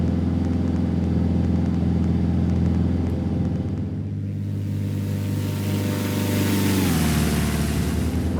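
The engine of a Carenado CT210M Centurion in X-Plane drones loudly and steadily, its tone dipping as the propeller is pulled back toward 2,500 RPM, then settling lower; no talking.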